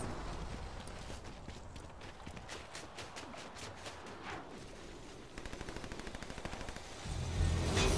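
Gunfire in the battle royale game Fortnite, with rapid machine-gun-like bursts and repeated shots. The fire sounds moderately distant at first and becomes closer and louder toward the end, with footsteps mixed in.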